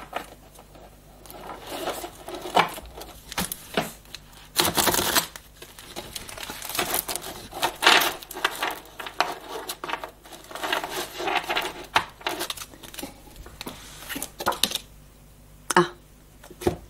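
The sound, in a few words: tarot cards being placed and covered on table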